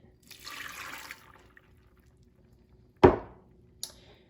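Water for homemade applesauce splashes briefly into a pot, a soft pouring hiss followed by a sharp clunk and a small tap, all in a quiet kitchen.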